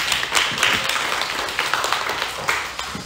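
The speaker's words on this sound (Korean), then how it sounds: "영광의 박수입니다." A church congregation claps together after a Sunday prayer, a brisk run of bright, fairly close handclaps filling the space with no voices.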